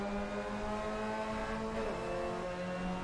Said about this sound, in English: Oh, we can hear the other car.